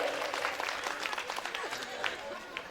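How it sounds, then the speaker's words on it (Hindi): Villagers at a religious storytelling gathering in Mubarikpur clap in welcome, a moderate, slightly distant patter of applause mixed with crowd murmur and voices in the background. "जोरदार तालियों से स्वागत किया जाए"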